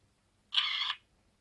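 A Windows Phone camera, triggered from a Bluetooth selfie shutter, gives one short electronic shutter sound about half a second long, faint and isolated against near silence.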